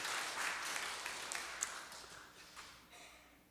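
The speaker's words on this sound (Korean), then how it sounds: "우리 다시 한번 박수합니다" Faint applause from a church congregation during a Sunday service, a scattered wash of clapping that slowly fades away.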